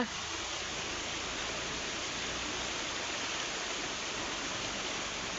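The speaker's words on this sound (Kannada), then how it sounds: "ನೀರಿನ ಪ್ರಮಾಣ ತುಂಬ ಜಾಸ್ತಿ ಇದೆ ನೀವು ನೋಡ್ಬೋದು ಅಲ್ಲಿ ನದಿಯ ಸೆಳವು ಎಷ್ಟು" The flooded, fast-flowing Aghanashini river in monsoon rain gives a steady, dense broadband rush that fills the whole stretch without a break, with no speech over it.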